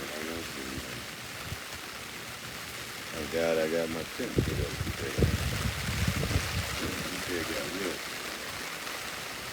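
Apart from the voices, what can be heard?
rain coming down outside a smoker tent in Florida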